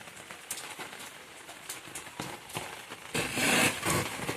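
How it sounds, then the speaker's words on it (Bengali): Heavy rain falling steadily outdoors, a dense broadband patter with scattered drops that swells louder toward the end, with no talk over it. "খুব বৃষ্টি হচ্ছে।"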